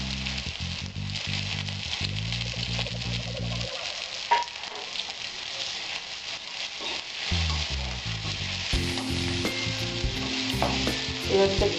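Chopped onions fry in a pan for a Bengali-style lote fish chop, giving a steady, close sizzle with bursts of stirring scrapes throughout; no one speaks.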